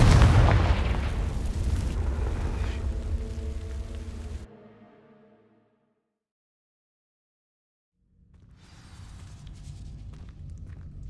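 A Confringo fire spell bursts in Hogwarts Legacy, setting dry vines alight. A loud rumbling blast and crackling burn die away into silence, then a softer ambient hum returns.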